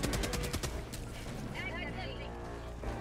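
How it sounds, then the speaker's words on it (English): Heavy machine gun fire in the video game Helldivers, a rapid burst of sharp shots at the start that fades into a rumbling, echoing battle din. "He's using a heavy machine gun."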